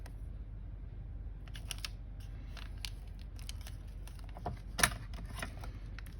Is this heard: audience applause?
no